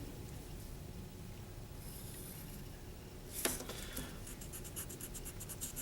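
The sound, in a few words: drawing a line toward a vanishing point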